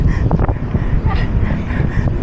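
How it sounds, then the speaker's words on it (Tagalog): Strong wind on a bike ride buffets the microphone with a heavy, continuous low rumble that surges and dips unevenly, loud and close throughout. "Mabigat ang hangin."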